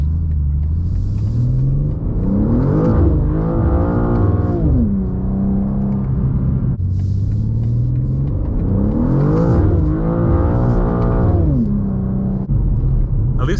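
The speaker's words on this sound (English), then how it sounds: "At least it lets you hit the rev limiter" A 2024 BMW M2 accelerates hard twice, its engine note climbing steadily to a bouncing rev-limiter stutter each time. The car is loud and close, and talk runs over the engine throughout.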